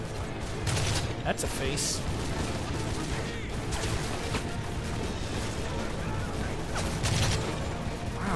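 Gunfire in the video game Modern Warfare 3, sustained bursts of shots and battle noise in a steady, dense barrage under someone talking over the action.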